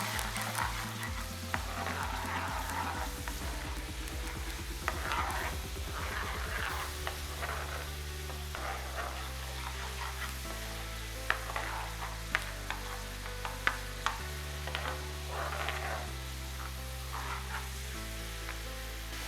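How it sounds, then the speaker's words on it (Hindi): Ginger-garlic paste fries in a pan with a continuous sizzle and occasional sharp ticks. A loud, low tonal hum with stepped pitch changes runs underneath throughout. "तो हम हल्का सा फ्राई करेंगे"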